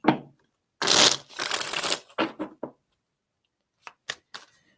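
Tarot cards are shuffled close up. A loud riffle burst is followed by a few shorter card-slapping shuffles, then quiet, then three small taps as cards are set down. No one speaks.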